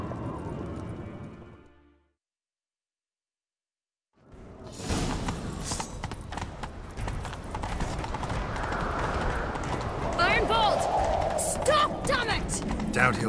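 Horse hooves gallop in The Witcher 3 video game: after a brief silence, a steady, fast clip-clop rhythm builds and continues to the end, mixed with whooshing motion sounds.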